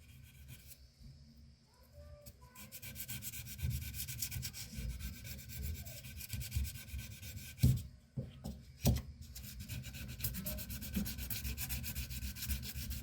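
Close, continuous abrasive rubbing as a firearm part is block sanded and polished by hand, with steady back-and-forth strokes and a couple of sharper scraping accents partway through.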